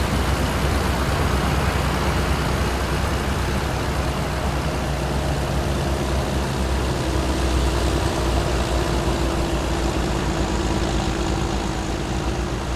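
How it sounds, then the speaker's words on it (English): A heavy truck in American Truck Simulator rumbles past in rain in a steady, loud engine drone with broadband road noise, no voices. "It's a nice sound of that truck as it went by."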